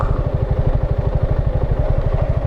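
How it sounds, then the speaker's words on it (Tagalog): Motorcycle engine left running at a roadblock stop on a long Bicol ride, a close, loud, rapid rhythmic idle thump with steady mechanical clatter, no voices. "Hindi ko mapatay yung motor ko kasi naglulubat."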